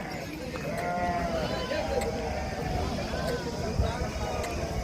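Several sheep bleat repeatedly amid a busy outdoor crowd at the Gudur sheep market, with people talking and steady background chatter throughout.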